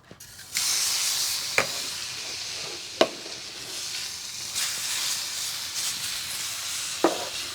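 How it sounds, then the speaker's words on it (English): Ribeye steak searing on a soapstone on a Kamado Joe grill, a steady loud hiss throughout with a few brief sharp pops and crackles, close by and alone. "Nothing like hearing that sizzle."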